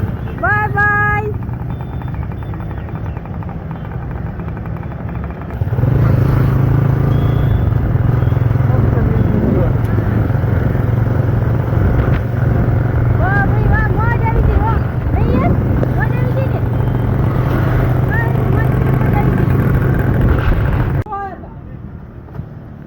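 Bajaj Freedom CNG motorcycle riding along, its engine holding a loud steady drone with wind rush for most of the ride, a calmer idle before and after, and a few voices speaking over it.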